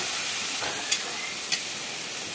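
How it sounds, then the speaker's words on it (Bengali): Close, continuous sizzling of spice paste frying with browned onions in a hot pan, with a couple of soft scrapes from stirring. "মশলাটাকে ভালো করে কষিয়ে নেব"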